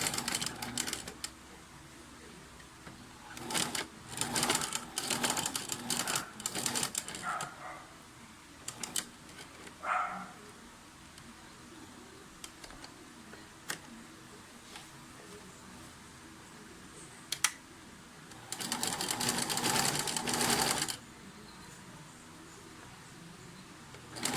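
A sewing machine stitches around the cuff of a jean-style jacket sleeve in several short bursts of rapid mechanical clatter with quiet pauses between them. The machine is close but soft.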